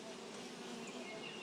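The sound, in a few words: honeybees buzzing at apiary hive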